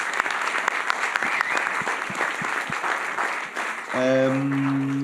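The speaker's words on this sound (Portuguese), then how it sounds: "Uma salva de palmas, faz favor, para a Beatriz e para a Inês" Live audience applause at a chemistry talk and conversation event, a dense steady clatter of many hands clapping for several seconds, then fading into a sustained tone near the end.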